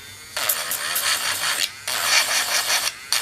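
Rapid scratchy rasping of sandpaper on a compo doll, in several bursts of back-and-forth strokes with brief pauses between them, close and fairly loud.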